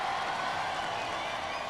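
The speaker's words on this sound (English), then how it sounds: "Let's give them a great round of applause" Studio audience applauding the finalist robot-combat teams, a steady dense wash of clapping and crowd noise that stays loud and even from start to finish.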